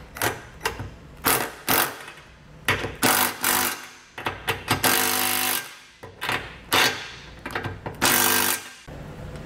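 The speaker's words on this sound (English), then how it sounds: "And we're going to snug these bolts down. I'm using a 9/16 socket." A 9/16 socket on a ratchet snugs down hitch U-bolt nuts during a Curt trailer hitch receiver install, making repeated close, loud bursts of clicking and grinding in short strokes with brief pauses between them.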